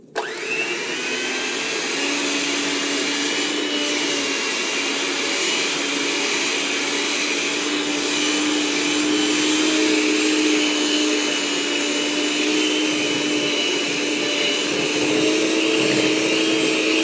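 Electric mixer whirring steadily for a long stretch as it mixes fresh apples into cake batter in a home kitchen, a loud, close, constant motor drone with no talk.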